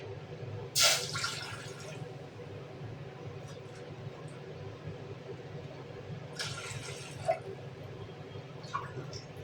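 Water is measured out and poured for masala Maggi noodles, heard as two short splashing bursts a few seconds apart over a quiet kitchen background.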